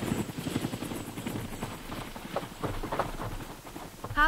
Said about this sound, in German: Als der beschädigte Hubschrauber schwankend auf dem Flughafen landet